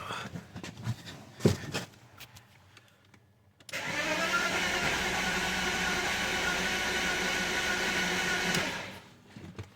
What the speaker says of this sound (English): so it's turning over, and it sounds maybe like low compression to me there.